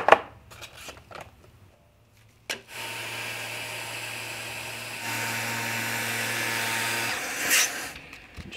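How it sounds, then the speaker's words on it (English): A random orbit sander smooths the edges of a custom speed gauge, running as a steady near whir for several seconds after a few short bumps and knocks, its pitch rising slightly midway. "for this kind of thing I use my random orbit sander"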